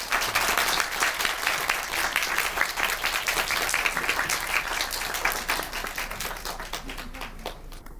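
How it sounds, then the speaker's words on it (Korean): Audience at a Korean cinema talk event applauds to welcome actress-director Moon So-ri and actress Jeon Yeo-bin, a dense, steady round of clapping that holds strong throughout and thins slightly toward the end. "박수로 맞아주세요."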